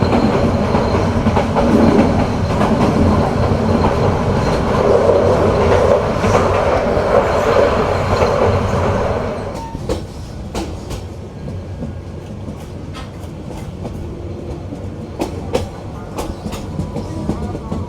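The Cox's Bazar Express, running from Chittagong to Dhaka, rumbles loudly and steadily for several seconds, then quietens into a lighter rolling clatter with sharp rhythmic clicks of wheels over rail joints.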